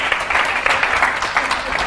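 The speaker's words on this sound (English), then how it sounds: "Give her a clap." An audience applauds after a slow foxtrot dance demonstration at a training session, a brief burst of steady, fairly loud clapping from a group of people.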